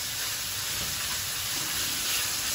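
Food browns in a hot pan in a home kitchen in Calabria, Italy, with a dense, steady, close sizzle and hiss that stays even for the whole moment.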